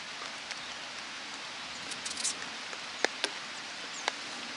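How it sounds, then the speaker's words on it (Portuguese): Heavy rain falls outdoors at a metal-detecting spot in Vale Indiana, making a steady, fairly quiet hiss. A few sharper drops patter now and then. "Chovendo forte."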